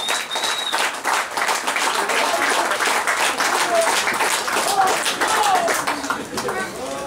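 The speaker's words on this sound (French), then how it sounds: "On les applaudit très fort, s'il vous plaît." An audience at a Polynesian dance group performance breaks into loud, sustained applause with scattered cheers and whistles, the crowd noise holding strong throughout.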